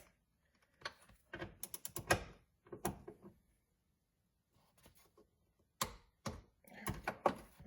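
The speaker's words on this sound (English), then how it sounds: "got my torque wrench out here" A torque wrench tightens the rear shock bolts on a BMW E46 convertible with quiet, close mechanical clicks and ratcheting in short clustered bursts. The bursts are separated by silent pauses.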